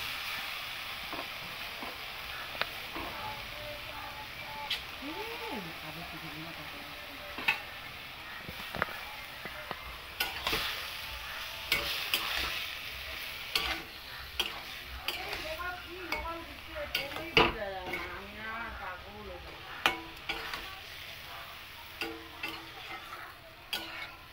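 Spinach fries in a pan with flat beans, eggplant and potato while a spoon stirs it. There is a soft sizzle with scattered scraping and clinking stirs, and a person talks intermittently over the cooking.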